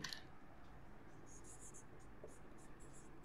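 Faint handwriting on paper or a board, a few soft scratchy strokes in short bursts against a quiet room hum, with no talking over them.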